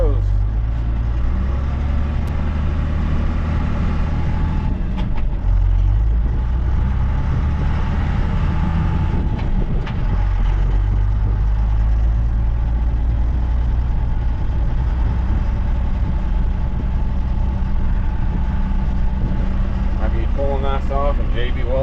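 First-generation Cummins diesel truck with an NV4500 transmission and NP205 transfer case rolls along in four-wheel drive, a loud continuous low engine and drivetrain rumble that fills the cab, with a brief voice near the end.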